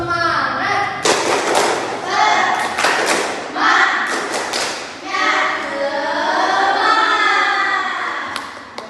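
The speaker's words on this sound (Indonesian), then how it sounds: "kita tepuk semangat dulu ya. Tepuk semangat." Schoolchildren in a classroom perform a rhythmic 'tepuk semangat' clapping routine, bursts of patterned claps and thumps alternating with chanted voices, loud and close.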